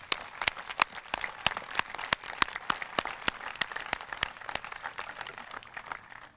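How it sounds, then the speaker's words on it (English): Applause from a modest outdoor crowd at a Relay for Life charity event, scattered individual claps standing out sharply over a thinner background of clapping, fairly close and steady throughout. "So please give yourself a big round of applause."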